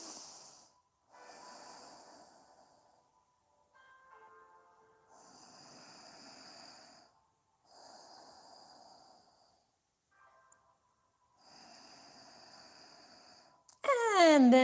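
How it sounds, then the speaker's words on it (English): Slow nasal breathing during a yoga session, a series of soft hissing inhales and exhales at an even, unhurried rhythm, close and quiet, with a brief louder rustle at the very end. "Breathing through your nose."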